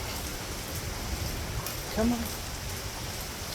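Steady rain falls during Hurricane Milton, a dense, even hiss of drops on surfaces throughout, with a brief voice speaking near the middle.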